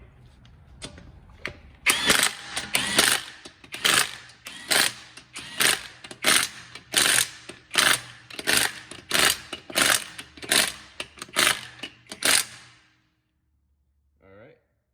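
Ridgid Octane brushless 1/2-inch high-torque impact wrench tightening, a long run of loud rapid hammering bursts pulsing roughly twice a second for about eleven seconds, close up, ending abruptly in near silence.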